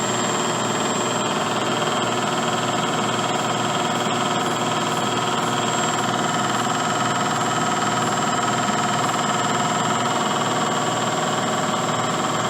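A milling machine spindle cuts an aluminum forming die, producing a loud, steady machine whine and hum with a constant high tone, continuous and unbroken throughout.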